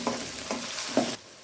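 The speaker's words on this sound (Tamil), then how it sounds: "சேர்த்திட்டு ஆயிலோட நல்லா இந்த பச்சை வாசம் போகிற அளவுக்கு வதக்கி விடுங்க" Crushed ginger and garlic sauté in oil for a spicy Kongu-style mutton chukka. Three close scraping stirs ride over a steady sizzle, which cuts off abruptly near the end.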